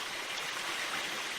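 A waterfall in the survival video game The Forest gives off a steady, dense rushing roar of falling water, constant and fairly close with no voices over it.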